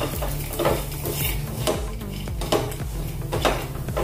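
Grated coconut roasting in a pan for coconut laddu is stirred briskly, with repeated scraping and clinking of a spoon against metal over a faint sizzle, close and fairly loud.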